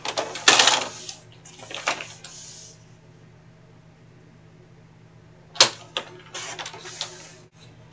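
Card stock being cut for a DIY notecard box: a few sharp, close slicing and scraping strokes with a quiet pause between them, no talking.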